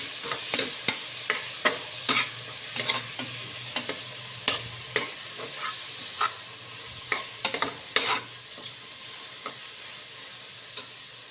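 Tomato and green chilies sautéing in a pan for Malabar chicken biriyani, with a steady low sizzle under repeated sharp scrapes and clacks of a spoon stirring against the pan, no voices.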